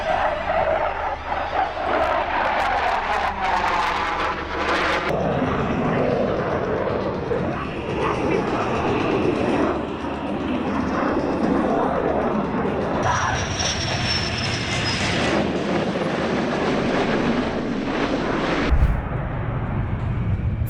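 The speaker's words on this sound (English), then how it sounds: "A Luftwaffe tornado cuts the sky, rolling, diving" A Luftwaffe Tornado jet rolls and dives overhead, a loud, continuous roaring engine rush with shifting pitch that swells and fades over about twenty seconds.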